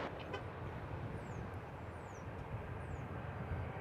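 An American Airlines plane landing at DFW Airport, heard as a broad steady jet roar at a distance, constant throughout without talk.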